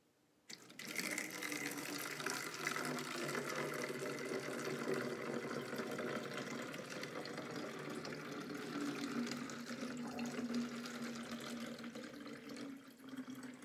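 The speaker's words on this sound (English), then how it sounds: "fill it about halfway or a little more than halfway with water." Water pours steadily into a plastic water bottle for a glitter sensory bottle, a continuous rushing fill that starts abruptly after a second of quiet and runs evenly at close range, with no talking.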